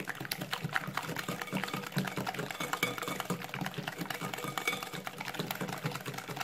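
Cake batter of eggs, lemon and semolina for gluten-free oven harsha is beaten in a bowl, with rapid, steady rattling and whirring close up and no talk.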